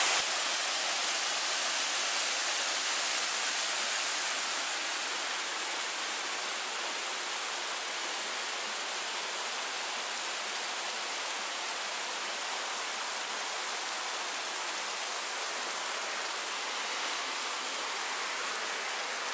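Two waterfalls meet where two rivers join at Curug Tarung in Temanggung, Central Java, giving a continuous broad rushing roar of falling water that stays steady and even throughout, with no speech.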